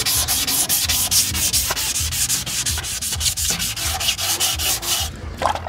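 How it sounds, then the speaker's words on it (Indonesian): P400 sandpaper rubs over epoxy primer on a car bumper in rapid back-and-forth strokes, a close, rhythmic scratchy rasp that keeps on steadily before easing off at the end, with no talking. "Jadi untuk amplas setelah diepoksi yaitu ukuran amplas P400."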